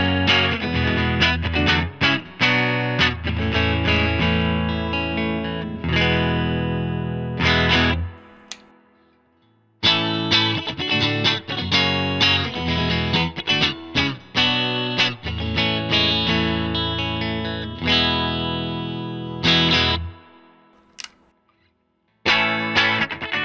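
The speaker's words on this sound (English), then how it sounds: "For switching, I'll go neck, middle, bridge, and back through with the strangle switch engaged at least once." A Fender Vintera III offset electric guitar, heard through effects, plays distorted riffs in two long phrases with a brief pause between them, as the pickup selection moves from neck to middle to bridge and includes the strangle switch.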